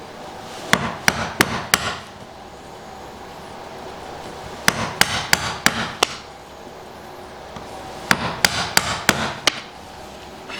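Steel wood chisel, Narex or WoodRiver, chopping into the end of a hardwood board: three tight groups of four or five sharp, loud mallet-driven strikes, evenly spaced, with no talking.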